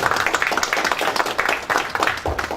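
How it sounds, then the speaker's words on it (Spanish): An audience at an agricultural event claps in a burst of applause, a moderately loud, dense patter of many hands with a little speech mixed in. "Un aplauso para motivarlo al ingeniero,"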